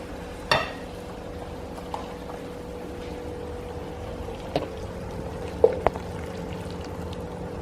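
Ribeye beef bulgogi fries and browns in a pan, a steady close sizzle with a few sharp clinks and scrapes of a utensil against the pan.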